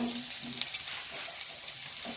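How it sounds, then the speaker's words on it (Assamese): Potatoes for aloo bhaji fry in a pan with a soft, steady sizzle and light stirring clicks, fairly quiet and close. "আলু ভাজি কৰিছোঁ"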